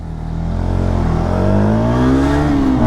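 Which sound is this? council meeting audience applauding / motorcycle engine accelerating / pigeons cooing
motorcycle engine accelerating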